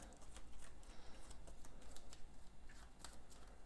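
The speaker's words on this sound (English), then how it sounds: "I'll just shuffle these up." Board game cards for Eldritch Horror being shuffled, a quick riffle of crisp, papery flicks repeating steadily at close range, soft overall and with no talking.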